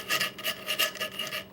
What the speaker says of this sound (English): this is a chainsaw file, and I'm going to work it down